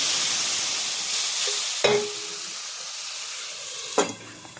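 Vegetable curry with spices and water simmering in a pan, a steady close sizzling hiss with two brief clinks of a utensil against the pan.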